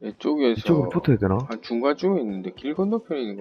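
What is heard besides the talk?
No everyday noises stand out.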